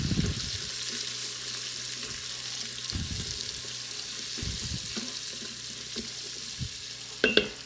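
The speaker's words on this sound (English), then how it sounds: "Bacon is not quite done yet, but it is still going to continue cooking. So let's go ahead and add some green peppers in." Bacon and green peppers frying in a gas-powered Instant Pot, a soft steady sizzle broken by several low scraping stirs, ending in a short sharper clatter, with no voices.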